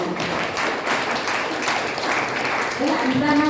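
An audience at a Brahma Kumaris Women's Day 2025 gathering in Bagalkot applauds loudly in a continuous close rattle of clapping, with voices creeping in toward the end.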